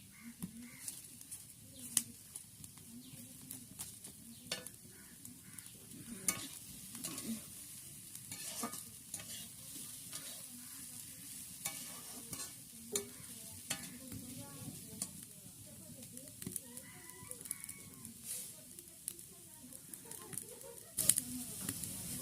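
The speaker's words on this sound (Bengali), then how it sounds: "আলু ভাজিটা আর কিছুক্ষণের মধ্যেই হয়ে যাবে।" Potatoes fry in a pan and are stirred now and then. A soft, low sizzle runs throughout, broken by scraping stirs, with faint bird calls in the background.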